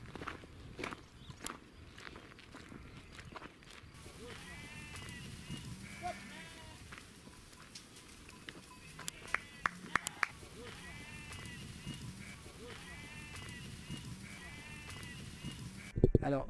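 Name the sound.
Landes sheep bleating in a flock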